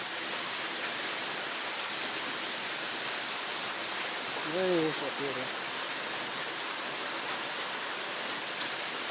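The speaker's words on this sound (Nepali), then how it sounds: "हेर्न सक्नुहुन्छ यो झरनालाई।" A new waterfall at Deurali Sepeni roars in a constant, dense rush of falling water close by, steady throughout, with a faint brief voice buried in the noise midway.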